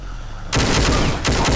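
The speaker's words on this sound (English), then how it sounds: "Let's use this gun." Gunfire erupts in Brutal Doom after a short quiet lead-in, a loud rapid burst of shots that briefly dips and then resumes, close and harsh.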